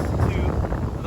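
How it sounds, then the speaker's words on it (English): Gusty wind buffets the microphone outdoors beside a V6 Honda Accord under radiator repair, a continuous low roaring rumble that fills the whole moment at steady loudness. "I know it's windy right now"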